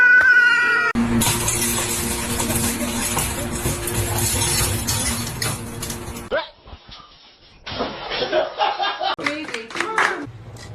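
A kitten meows in short, repeated cries mixed with other animal noises and clapping, and people talk in the background.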